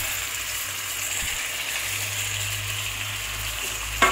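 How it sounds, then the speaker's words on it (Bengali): Spice-coated hilsa fish frying in oil in a wok, a steady broadband sizzle that holds evenly throughout with no voices and a brief louder burst near the end. "কড়াইয়ে এবার ওই মাছ ভাজা যেটা করে নিয়েছিলাম 4 পিস মাছ ভাজার পরে ওই তেলেই আমি ওই মশলা মাখানো মাছটা দিয়ে দিলাম।"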